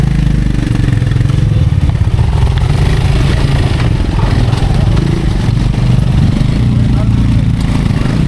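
An off-road vehicle engine rumbles loudly and continuously while climbing a steep trail to Mandalpatti Peak in Coorg. Excited voices talk over the heavy, rough drone.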